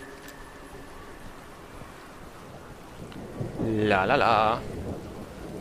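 Steady rain with rolling thunder in the video game Wolfenstein: The New Order, a constant wash of downpour throughout, with a brief sung voice rising over it near the end.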